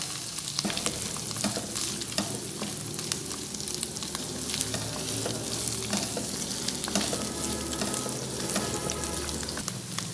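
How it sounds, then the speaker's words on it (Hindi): Onions fry in a pan for keema pulao, a steady close sizzle with scattered spatter pops and occasional stirring scrapes, with no talking over it. "प्याज को लाइट गोल्डन होने तक फ्राई करें।"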